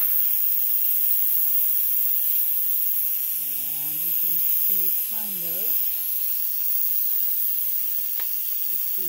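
Steam vents in a steady, loud hiss from an electric countertop pressure cooker as it is depressurized, continuing throughout while a person talks over it.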